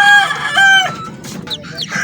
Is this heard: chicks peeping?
yes